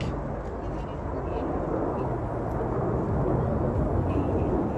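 RAF Red Arrows jets fly overhead at an air show, a loud continuous engine roar that holds steady throughout the whole stretch.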